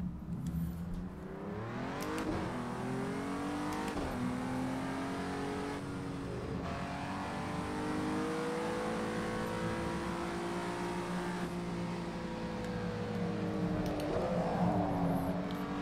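A race car engine in a Le Mans racing video game revs hard in first gear, pitch climbing and dropping through repeated accelerations; loud, steady and close, with no voices.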